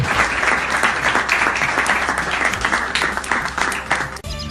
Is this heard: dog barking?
no